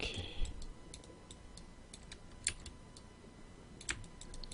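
Computer keyboard keys pressed in a quiet room, a faint scatter of light clicks with a couple of slightly sharper taps.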